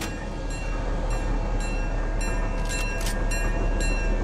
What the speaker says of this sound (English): What is this? This train?